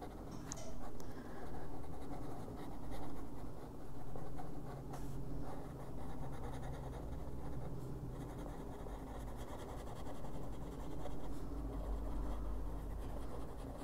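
Colored pencil laid down on paper while filling in a golden area of a coloring page, a soft continuous scratchy rasp with steady stroke rhythm, close and fairly even throughout.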